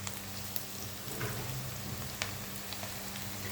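Onions lightly frying in a pan for a liver tagine give a steady close sizzle, with scattered crackles and pops over the even hiss and no voices.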